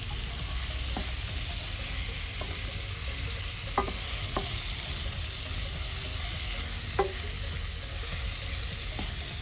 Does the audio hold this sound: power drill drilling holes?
no